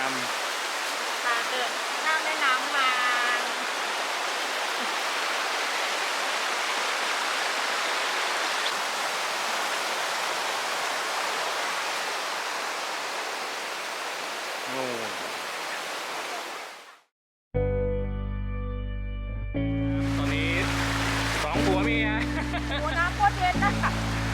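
River water flowing near a campsite: a broad, steady rushing wash of water that fills the scene for most of the stretch before cutting out abruptly, followed by a different, busier sound.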